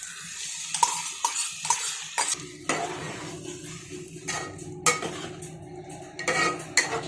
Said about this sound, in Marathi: डाळ चांगली परतत आहे